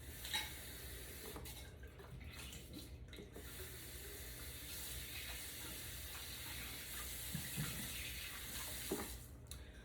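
Tap water runs into a plastic squeeze bottle in a kitchen as it is rinsed out, a soft continuous splashing stream with a few small knocks, fairly quiet and nearby.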